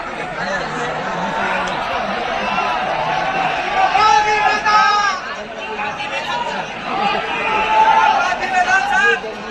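Dense chatter of a large crowd at a mega seminar in a hall at Srimanta Sankardeva Kalakshetra, Guwahati, a continuous loud murmur of many voices with occasional louder calls and laughter throughout.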